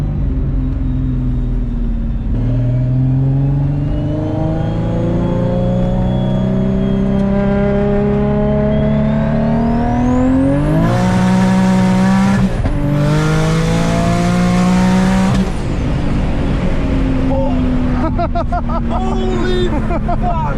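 An Infiniti G35 engine idles with a hanging, uneven note, then climbs through a long rev, blips twice more loudly and settles back, close and dominant over faint voices in the background.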